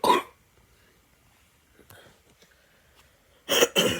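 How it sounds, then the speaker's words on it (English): A person with bronchitis coughs harshly up close, one rough burst at the start, faint breathing through a quiet stretch, then two more heavy coughs in quick succession at the end. "You're my horrible cough, as you can see."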